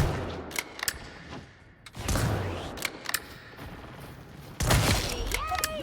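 Sniper rifle shots and other gunfire in a video game ring out as several sharp, loud cracks spread across a few seconds, with quieter game noise between them.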